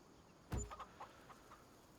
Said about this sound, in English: There we've got our chickens.